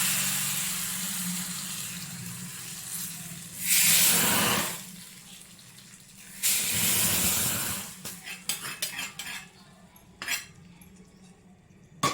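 Tempering is tipped into mashed toor dal with ponnaganti leaves, giving metallic clinks and scrapes of a spoon against pots, a soft pouring wash, then scattered lighter taps that fade out.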